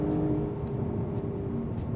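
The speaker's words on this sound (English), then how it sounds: "it's got a Miltech valved exhaust that sounds absolutely incredible" An Audi B8.5 S4 with a Milltek valved exhaust gives a low, steady engine drone and exhaust rumble at a cruise, fairly quiet and heard as if from inside the car, with no talk.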